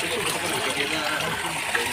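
Water flowing steadily through a canal, a continuous broadband rush that stays even and fairly close for the whole stretch, with no talking.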